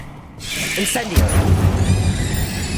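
A fire spell is cast in Hogwarts Legacy: a deep, rumbling whoosh of flame bursts out and keeps roaring, and a voice speaks just before it.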